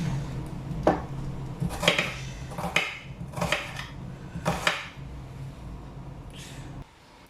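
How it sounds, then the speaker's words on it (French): Onions being chopped with a knife: five or six distinct knife strikes on a board at an uneven pace, close and fairly crisp, then a final softer clatter before quiet. "Et je vais maintenant découper les oignons."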